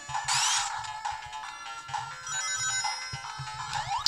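Sega Mega Drive game sound effects from a cheap 5.1-inch handheld emulator: bright, chiming electronic tones and blips repeating over about four seconds, fairly loud, with no talking.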